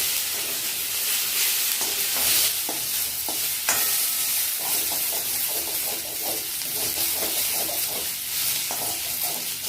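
Spices tempering in hot oil for potato chutney, a loud, dense, continuous crackling sizzle with hissing spatter and intermittent scraping stirs, close up throughout with no speech.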